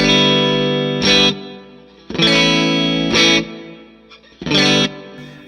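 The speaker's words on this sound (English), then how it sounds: "Use a little bit of this reverb." Distorted electric guitar chords strummed in short bursts with ringing reverb tails filling the gaps between them.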